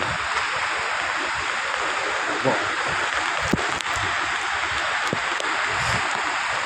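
Steady rushing wash of sea waves at the shore of Manila Bay in Navotas, heard from beside a fishing boat. The continuous roar fills the clip with occasional knocks, and a voice briefly speaks over it.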